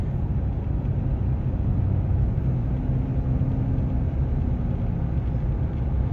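A truck engine drones while driving on a mountain highway, a loud, continuous low rumble with steady road noise and no pauses.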